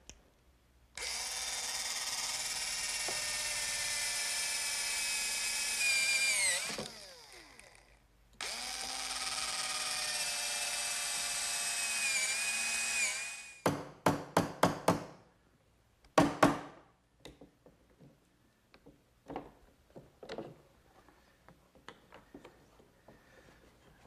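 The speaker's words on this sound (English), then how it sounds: "So I'll do that by using a brad point bit and a chisel to remove" Woodworking at a workbench: a power drill with a brad point bit runs in two long whining bursts, followed by a series of sharp chisel taps and knocks in wood that thin out and fade.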